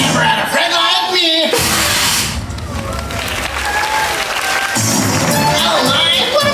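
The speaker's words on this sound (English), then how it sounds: "Oh my, what applause." A large audience at a Disney park show applauds and cheers after the Genie's song, a loud, dense wash of clapping and shouts with voices and music mixed in.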